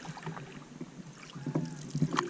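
Canoe or kayak paddling on the Green River: soft, irregular water swishes and light splashes from the paddle, fairly close, with faint wind noise and no talk.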